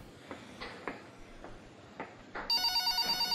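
A telephone starts ringing in a video game, its bright electronic trill beginning suddenly after a few soft clicks and taps and pulsing in rapid, even bursts at close range.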